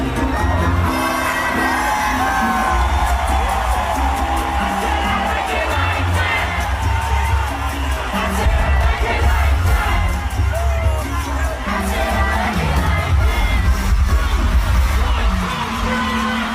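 A large concert crowd at a performance cheers and whoops steadily throughout, a dense, loud roar of many voices with shouts and scattered bangs layered over thumping music.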